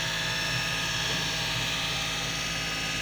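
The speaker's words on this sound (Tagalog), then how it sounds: "Ang ingay ng aircon." Steady, constant mechanical hum of an air conditioner in a kitchen, a broad whooshing drone, unchanging throughout and fairly loud, no voices.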